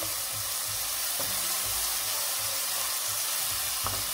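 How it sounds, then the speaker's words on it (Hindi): Chicken sautés lightly in a karahi for a green chicken karahi recipe, producing a continuous soft sizzle with a few faint stirring knocks, steady and close, with no speech. "हल्का सा सौटे करना आपने इसको"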